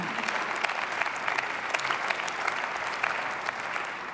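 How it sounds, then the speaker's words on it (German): Audience applause after a political speech on economic and monetary union, a steady dense clapping from a large hall crowd that holds evenly for about four seconds with no voices over it. "Applaus"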